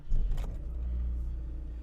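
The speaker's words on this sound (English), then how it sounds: "Just opening the car now." Keys jangle briefly up close as a car is unlocked and opened, followed by a low steady rumble, fairly quiet and without talk.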